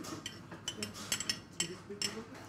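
Irregular scraping and light clinking of a utensil against a bowl as butter and coarsely knife-crushed walnuts are mixed together, quiet and close, in a short burst of uneven strokes.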